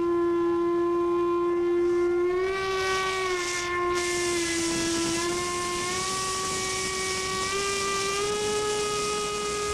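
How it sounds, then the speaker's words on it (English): An old factory steam whistle atop the New York Wire Company in York, Pennsylvania sounds a long, loud, sustained chord-like tone, its pitch bending and wavering as it is played over a steady hiss of steam. "playing the old factory whistle atop the New York Wire Company in York, Pennsylvania."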